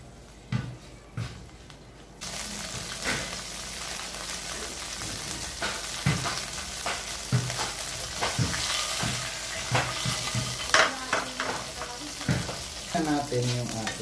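Dried fish (tuyo) frying in a little oil for adobo cooked with Sprite: a brief quiet lead-in, then a steady close sizzle dotted with small pops, spatters and occasional utensil clicks.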